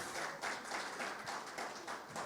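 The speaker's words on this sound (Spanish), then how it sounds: "Denle un aplauso fuerte a Cristo Jesús" A church congregation claps during a morning worship service, a steady broadband patter of hands with slight swells in intensity, fairly close and continuous throughout.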